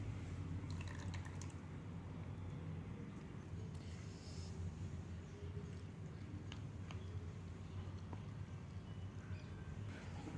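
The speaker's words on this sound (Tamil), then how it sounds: "எண்ணெய் ஊற்றிக்கலாம்." Oil being poured into a bowl of water while making homemade hair oil: faint, continuous liquid trickling and dripping with occasional small clinks, quiet and close.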